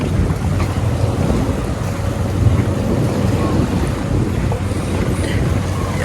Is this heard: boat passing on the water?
yes